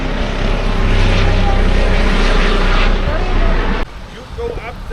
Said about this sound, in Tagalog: Ayun na helicopter.